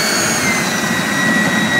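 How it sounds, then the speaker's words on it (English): Electric RC model Saab J35 Draken jet flying over Rabbit Dry Lake, a loud, steady ducted-fan whine with a broad rushing roar that holds throughout, with no pauses. "now we have the electric Saab Draken"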